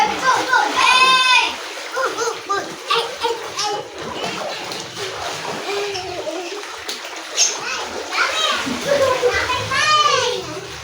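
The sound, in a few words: child splashing in bath water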